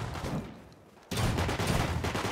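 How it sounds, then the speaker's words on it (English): Gunfire in the survival video game Rust: a dense burst of shots, a brief quieter lull, then a loud, sustained volley of rapid reports that stays close and heavy until the end. "I shot you in the face!"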